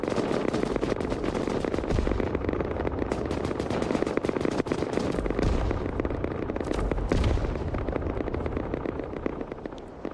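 Dense, continuous barrage of cannon and gunfire during a large battle in Albion Online, loud overlapping booms and cracks layered thickly with no pause throughout.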